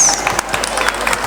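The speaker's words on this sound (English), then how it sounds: "Give him a huge round of applause, audience." Audience applause at a school's annual Parents' Day ceremony in the secondary section, a dense patter of clapping from a crowd that runs steadily through the moment.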